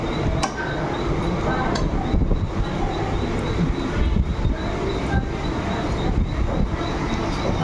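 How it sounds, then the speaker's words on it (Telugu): A Mumbai local train at Wadala railway station gives off a loud, steady rumble of carriages and wheels on the rails. It runs unbroken for the whole stretch, with faint hiss and a few sharp clanks on top. "ఓకే, ట్రైన్ అయితే ఎక్కుతాం."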